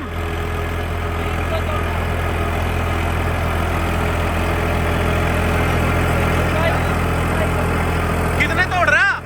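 A New Holland or Mahindra tractor engine runs steadily at around 1600 rpm during a field competition, its deep continuous drone holding level throughout with a faint high whine near the end.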